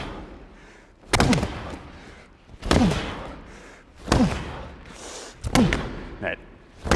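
A ball is struck as hard as possible during a pivoting drill with the elbow dropped low, giving four loud, sharp impacts spaced about one and a half seconds apart, each followed by brief voice sounds.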